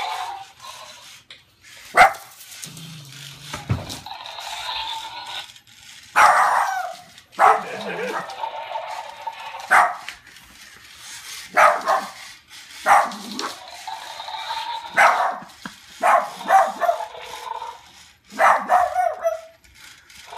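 A dog barking in short, sharp bursts, close and loud, with whimpering yips between the barks and a robotic dinosaur toy nearby.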